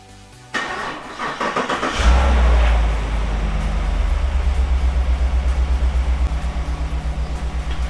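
A 2014–2019 Chevrolet Silverado pickup engine cranks on a weak 11.7-volt battery after a click, turning over sluggishly before catching and settling into a loud, rhythmic idle close to the microphone.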